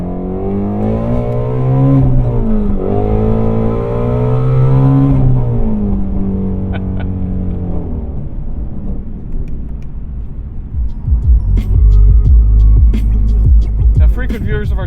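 A 2020 Ford Mustang Shelby GT350R in loud exhaust mode, its engine revving up toward 8,000 rpm with a climbing, throbbing tone before easing off, then deeper rumbling, with a voice speaking briefly.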